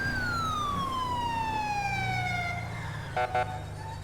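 A police siren in GTA 5 wails, sweeping slowly downward in pitch under a low vehicle rumble on a highway, followed by two short clipped siren bursts near the end.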